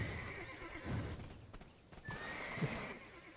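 A horse in the online game Black Desert Online neighs and whinnies loudly and repeatedly, with hoof clip-clops mixed in against game background sound.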